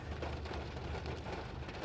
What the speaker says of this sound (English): it's raining, so just little raindrops